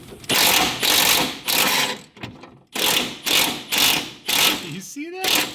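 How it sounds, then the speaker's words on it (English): Impact wrench working a bolt on an LS-swapped Miata, a close, loud series of about seven rattling bursts, each roughly half a second long, separated by brief pauses. "hit an impact. So watch that bolt."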